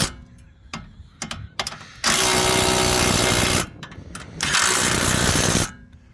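Bolts on a 2012 Honda Civic axle get tightened with a power tool, first a few short sharp clicks and taps, then two loud sustained whirring bursts of a couple of seconds each, close by.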